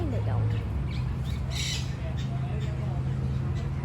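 A bird squawks and chirps in short calls during bird feeding, under steady background noise while people talk nearby.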